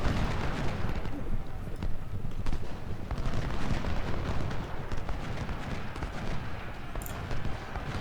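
Continuous musket volleys and artillery fire at the Civil War battle of Shiloh in Ultimate General: Civil War, a dense rolling crackle with booming shots, steady and fairly loud throughout.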